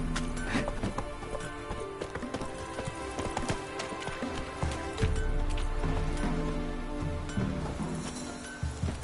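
Geralt's horse Roach gallops in The Witcher 3, hooves pounding in a fast, continuous clip-clop rhythm close by, with a whinny, rustling, and ambient game music underneath.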